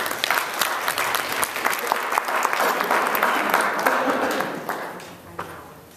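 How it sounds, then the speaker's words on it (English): An audience at a creative education conference gives sustained applause for the event's sponsors. Dense clapping fills the hall and slowly tapers off toward the end. "If we could give them all a round of applause, please."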